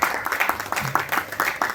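Scattered hand clapping at a Buddha Jayanti lecture event in a hall, a modest audience giving a short, uneven round of applause with distinct individual claps rather than a dense roar.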